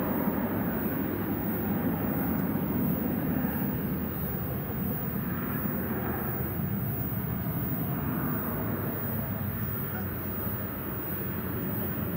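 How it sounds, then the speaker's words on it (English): An American Airlines Boeing 737-800 bound for Minneapolis–St. Paul rumbles on a runway at Dallas/Fort Worth airport at night, a steady, broad distant jet roar with wind buffeting and no clear talk. "this is going to be American 2806 off to Minneapolis, St. Paul, 737-800 on Runway DFW"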